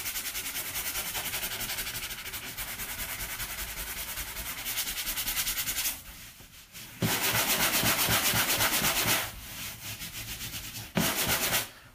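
A sanding sponge rubs over a patched textured wall, giving steady, close scratchy strokes that stop briefly midway and then resume in loud rasping bursts.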